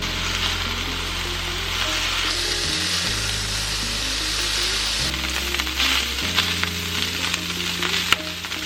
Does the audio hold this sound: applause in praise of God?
no